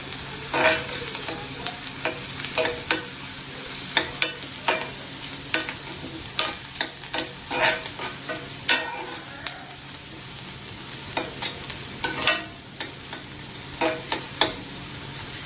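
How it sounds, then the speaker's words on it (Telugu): Rajma curry ingredients stir-fry in a pan over a high flame, giving a continuous sizzle with frequent sharp scraping and tapping strokes from the spatula. The sound is close and loud, with no voices. "మంట కొంచెం హైలో పెట్టుకొని ఇది ఇలా దగ్గర నుండి వేయించి కొంచెం కలర్ మారేదాకా వేయించుకుంటే"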